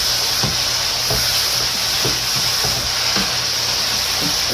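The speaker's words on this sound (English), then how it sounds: "constantly keep giving this a stir" Chicken fajitas sizzle loudly and steadily in a hot pan, a constant hiss broken by repeated scraping knocks as they are stirred, close up and with no voices.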